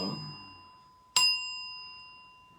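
A single sharp bell strike rings out clearly, its bright metallic tone sustaining and slowly fading after a brief rustle.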